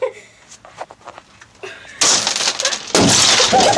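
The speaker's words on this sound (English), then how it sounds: "quit breaking glass." Glass breaks in the back of a car, first sparse knocks and crunches, then two loud crashing, shattering bursts that keep rattling toward the end.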